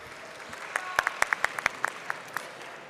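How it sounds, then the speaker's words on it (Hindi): Sparse, quiet audience claps welcoming a comedian onto a comedy stage: about a dozen separate handclaps sound one after another in a loose, uneven rhythm against a soft background hush. "आपकी भरपूर तालियों में गुले नोखेज अख्तर"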